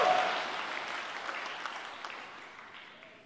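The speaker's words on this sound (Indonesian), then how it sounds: "Berikan tepuk tangan yang meriah buat Tuhan." A church congregation claps loudly, the dense applause gradually fading over a few seconds without any talking.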